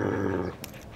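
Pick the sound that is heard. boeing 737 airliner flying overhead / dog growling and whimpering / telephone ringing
dog growling and whimpering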